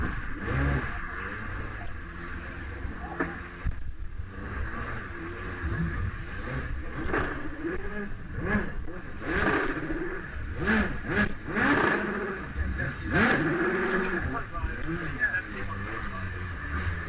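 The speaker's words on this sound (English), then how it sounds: "I'm hearing engines starting down in the paddock" Several racing car engines start and rev in the distant paddock at the Prescott hillclimb, rising and falling repeatedly beneath steady background noise and voices.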